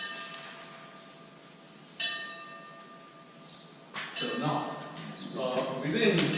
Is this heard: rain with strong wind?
no